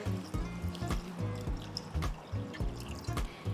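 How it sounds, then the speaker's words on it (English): Water splashes and trickles into a pot of potatoes for vegetable soup, in uneven, pulsing gurgles and drips heard up close without talk. "I'm gonna put the potatoes with water"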